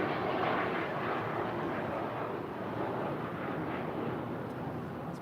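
Hawker 900 XP business jet departing from LAX, a continuous broadband engine roar with a faint high whine, steady and moderately distant, no voices over it.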